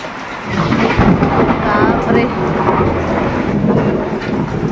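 Loud rumbling thunder rolls through a heavy rainstorm, with dense rain hissing steadily on surfaces throughout and the rumble swelling near the start.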